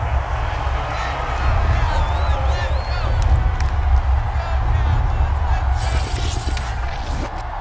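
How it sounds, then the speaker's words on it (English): Stadium crowd at an American football game cheering after a 55-yard field goal, a broad sustained roar with whoops and claps rising near the end, under talk. "you can hear the crowd react"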